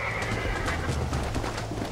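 A horse in the Western video game Red Dead Redemption, its hooves clip-clopping and a neigh rising above a constant wash of background ambience, close and fairly loud.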